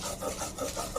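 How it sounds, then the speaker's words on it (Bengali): Bottle gourd leaves are ground into a paste with a brief, close, soft rasping rub that repeats a few times in quick succession. "শাকটা বাটতে হবে এখন"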